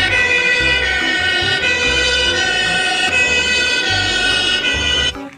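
A toy fire truck plays an electronic siren, a steady wailing tone repeating for several seconds up close before cutting off abruptly.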